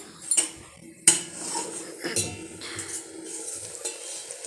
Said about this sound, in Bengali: এদিকে আবার এই ফুলকপি আলু তরকারি রান্না হচ্ছে